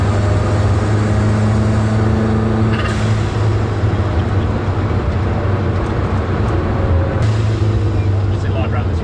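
A Lancia Delta Integrale four-wheel drive car rounds a roundabout, a steady droning engine and road rumble heard from inside the cabin, with a person talking over it.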